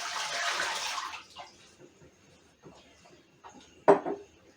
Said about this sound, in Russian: Сюда наливаем литр воды.